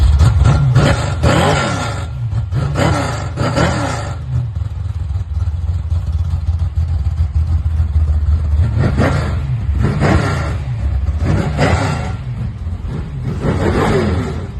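A 1967 Chevrolet Camaro being prepped for the track revs hard in repeated bursts, each loud blip rising and falling over a rough idle, close by with no talking.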